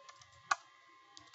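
A few quiet clicks of computer keyboard keys are typed at close range, with one sharper keystroke in the middle and a couple of soft taps near the end, alone over faint hum.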